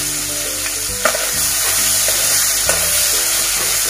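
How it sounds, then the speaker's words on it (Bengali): Prawns coated with turmeric fry in hot oil, giving a steady, close sizzle with occasional sharper pops and spatters throughout. "চিংড়ি মাছ ভাজলাম"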